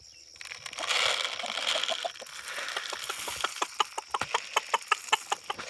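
Chickens cluck softly in the early morning at first amid a rustling flutter, then sharper, evenly spaced clucks pick up in a steady rhythm, close by.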